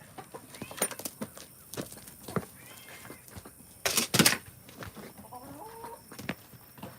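Chickens on a farm during morning chores cluck and squawk close by, with scattered short calls, a louder flurry of flapping and squawking midway, and light rustling between calls; no one speaks.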